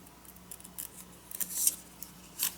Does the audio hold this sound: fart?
no